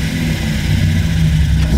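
Nissan Skyline Kenmeri engine held at high revs during a tire-burning launch, a loud, close, steady low growl with no talking.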